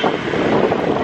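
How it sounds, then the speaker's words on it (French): Strong wind buffets the microphone on a motorbike carrying three riders in Bali, a loud steady rumbling roar with no voices. "On est sur la moto, regardez ça"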